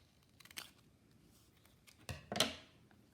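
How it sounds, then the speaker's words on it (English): Scissors snipping a curve through thin cardboard for a collograph print plate, a couple of short crisp cuts close up with quiet pauses between. "Cut another curve right there."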